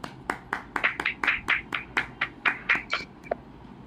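About a dozen separate hand claps in an even, unhurried rhythm, close and clear over quiet background, from a small group at a Marathi poetry reading gathering.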